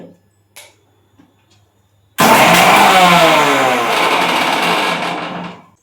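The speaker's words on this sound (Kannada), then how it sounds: "ಈ ಮಿಕ್ಸರ್ ಗ್ರೈಂಡರಲ್ಲಿ ನಾನು ಈ ಕೆನೆಯನ್ನು ಹಾಕೊಳ್ತಾ ಇದ್ದೀನಿ" A kitchen mixer grinder churning cream with a little water for homemade ghee starts abruptly after near-silence with a few small knocks, then runs with a loud, rough whirring motor that holds for about three seconds and tapers off.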